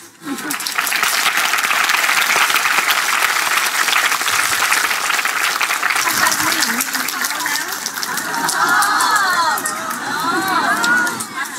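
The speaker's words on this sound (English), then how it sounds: "That's why you're clapping." Listeners at a Buddhist teaching on the Shurangama Sutra break into steady, loud applause that fills the room for over ten seconds, with crowd murmur and some voices rising through the clapping toward the end.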